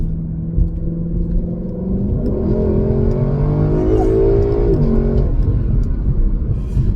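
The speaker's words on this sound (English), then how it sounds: "this car handles really, really well" A car engine revs through a corner on a road, a loud close rumble whose pitch climbs and settles as it accelerates, droning steadily to the end.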